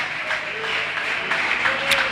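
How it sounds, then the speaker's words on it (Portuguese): A church congregation applauding at an evening service, with a steady wash of clapping that stays at an even, moderate level throughout and no voices standing out. "Dê uma salva de palmas para Jesus, que Ele merece."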